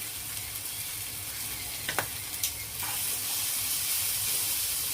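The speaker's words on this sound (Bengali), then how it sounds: "মশলাটাকে ভালো করে কষিয়ে নিব" A spice masala paste fries in a pan for a vegetarian raw banana kofta curry, a close and steady sizzling hiss with a few stirring knocks, and the sizzle grows stronger near the end.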